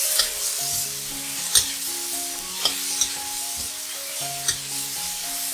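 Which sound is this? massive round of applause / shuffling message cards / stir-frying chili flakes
stir-frying chili flakes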